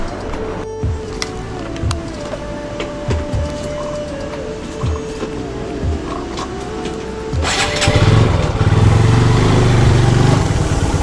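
A motorbike rides over a rough, landslide-damaged mountain road in Myagdi, Nepal. The engine drones steadily with recurring bumps and jolts, then grows louder and rougher near the end.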